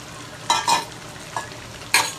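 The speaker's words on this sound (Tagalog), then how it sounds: "ilalagay na natin yung mga pinrito natin. Itong atay, carrots," Fried liver, carrots and potatoes are stirred into Tagalog-style menudo in a pan, producing four short scraping stir strokes over a faint background sizzle.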